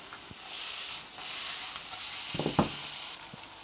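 Plantain slices fry in hot oil in a steady, hissing sizzle with a few soft clinks and bumps near the end, close and moderately quiet, with no talking.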